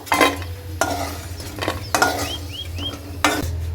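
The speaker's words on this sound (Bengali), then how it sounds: "ভেজে নিই। দেখো কিশমিশগুলো টোবা টোবা হয়ে বেশ ফুলে উঠেছে" Raisins fry in hot oil with a steady sizzle, broken by several sharp clinks and scrapes of a utensil stirring against the pan. No one speaks.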